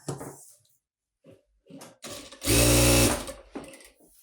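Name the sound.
sewing machine stitching facing fabric onto blouse front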